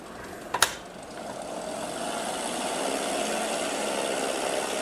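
A Cessna 172 Skyhawk light aircraft engine runs steadily at a low idle before takeoff, a continuous even drone broken by a brief sharp click early on, with no talking.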